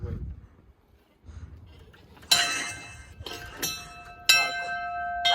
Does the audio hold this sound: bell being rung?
yes